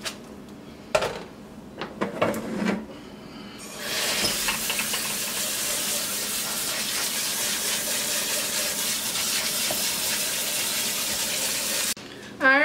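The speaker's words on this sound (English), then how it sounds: "you want to drain the pasta, and then you want to rinse it with cold water." Cold tap water rinses drained pasta: a few brief clatters come first, then a steady, loud rushing gush runs for about eight seconds before cutting off.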